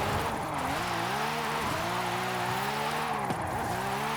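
A car drifts through the volcano drift zone in Forza Horizon 5, its engine droning steadily at varying pitch while tires squeal continuously, loud and close, with no talk over it.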